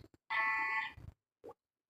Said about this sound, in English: If the car come in the parking launch and if the wrong parking get take place, then the automatic alarm generate like this.